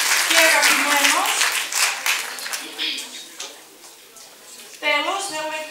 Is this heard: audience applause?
yes